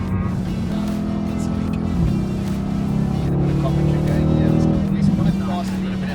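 A Mercedes-AMG car at Zwartkops Raceway, its engine droning loudly from inside the cabin as it accelerates and shifts, the pitch climbing and dropping while a person talks over it.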